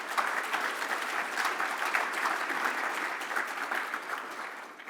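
Sustained applause from a banquet audience in a grand ballroom at an award dinner, steady dense clapping filling the room at fairly close range without a break.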